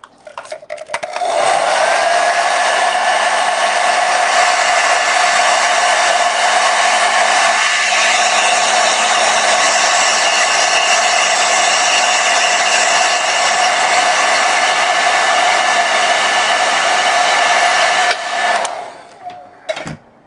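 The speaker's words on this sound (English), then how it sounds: "And we can also use our blow dryer." A hair dryer blows steadily at close range over a wet watercolor painting with a constant whirring roar, switching on at the start and cutting off near the end.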